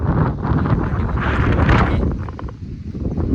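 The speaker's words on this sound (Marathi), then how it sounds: "अक्षरशः टोपी उडून जाईल एवढं वारे." Strong wind on a hilltop fort buffets the microphone in loud, roaring gusts that ease slightly toward the end.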